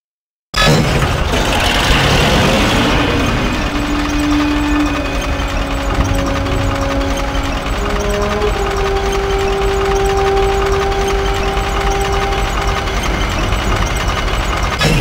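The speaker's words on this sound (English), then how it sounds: "our tank soon had engine trouble, and the smoke plume was giving away our position" A T-34 tank engine runs rough in the Call of Duty: Finest Hour video game. It makes a loud, steady, heavy rumble with droning tonal whines that shift in pitch, and no talking is heard.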